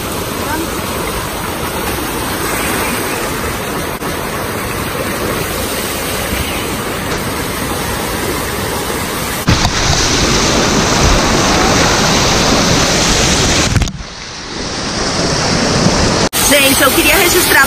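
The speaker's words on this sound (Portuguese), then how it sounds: "Esses jatos também são de água quente." Steady, powerful rush of bubbling hot water fills the clip, a dense hiss with a brief dip near the end, like strong hot tub jets churning.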